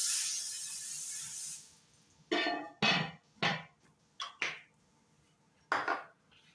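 A cast iron skillet handled on a stovetop: a run of water-like hiss at the start, then about seven loud, close metallic clanks and thuds in an irregular rhythm, with no talk.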